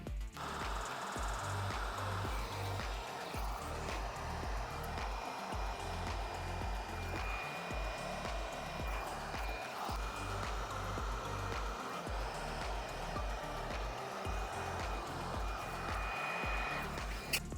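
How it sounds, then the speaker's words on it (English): Heat gun blowing steadily on heat shrink tubing over wires of a Shimano EP8/E8000 e-bike during range extender installation; a continuous loud airy roar with a low rumbling undertone, unbroken for the whole stretch, no talk. "We'll heat shrink those wires, heat shrink this main tube"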